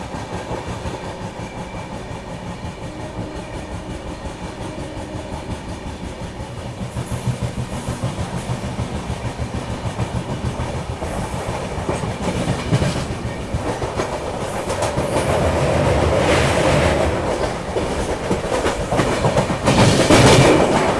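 The Maharashtra Sampark Kranti Express rolls toward Borivali near Mumbai, heard from inside with a steady rumble and clickety-clack of wheels that swells louder and rougher toward the end, with no talk.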